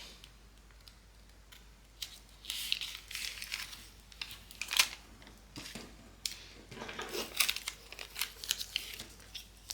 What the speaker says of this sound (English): So to add our vinyl, we need some transfer tape.